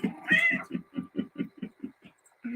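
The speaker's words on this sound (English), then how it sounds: "Our resident cat." A resident cat named Peaky Bee meows in a run of about ten short, evenly spaced calls, close and fairly loud, with one longer opening cry and no talk over it.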